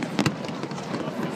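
New Year fireworks over Brisbane in 2013 give two quick sharp pops near the start, followed by a softer rumble of bursts blended with crowd noise and voices in the background.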